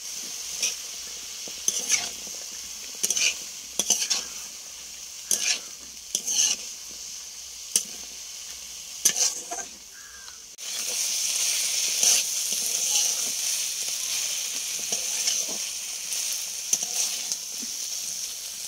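Food sizzling steadily in a pan, with intermittent stirring and scraping strokes over the first half, then a louder, continuous fry hiss that holds to the end.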